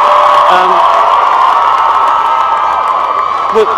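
A massive crowd cheers and shouts at the Harry Potter and the Deathly Hallows Part 2 premiere, a loud, continuous wash of distant voices with a few brief calls standing out near the end.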